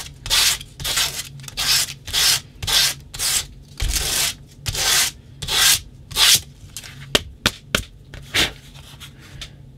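Sandpaper rubs over handmade baby shoe material in quick rhythmic strokes, a run of close, scratchy bursts with brief pauses between them and sharp taps near the end.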